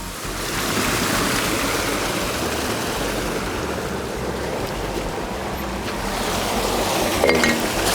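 Water pours and cascades steadily through a series of three troughs in an abandoned 1970s fish hatchery, a loud continuous rushing wash with no speech.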